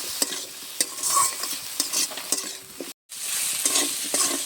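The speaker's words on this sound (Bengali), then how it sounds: "নেড়ে চেড়ে আলুটাকে বেশ সুন্দর করে মশলার সাথে কষে নেব" Potatoes stirred and fried with mustard spice paste in a pan while cooking a bhola fish and potato dish: rhythmic scraping spatula strokes over a steady close sizzle, with a brief silent break midway.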